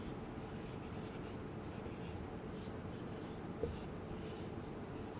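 A teacher writes words on a classroom board during a lesson, giving a steady, close scratching that runs unbroken for about five seconds, with one small knock near the end and no talking.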